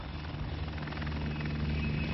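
Tigre combat helicopter flying aerobatic manoeuvres such as rolls and loops, a steady close rotor and engine roar with a low throbbing drone, sustained and even throughout.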